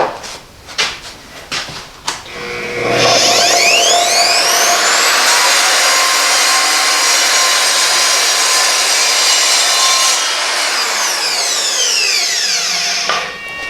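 An Evolution R255SMS sliding mitre saw with a used blade cuts through a piece of wooden decking: a few clicks and handling knocks, then a loud, sustained whining cut for about ten seconds before the blade winds down.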